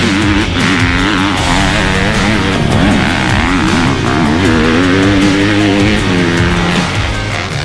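A Kawasaki KX250F 250cc motocross dirt bike engine revs loud and close, continuous high-pitched engine whine rising and falling as the throttle works through gear changes during a ride.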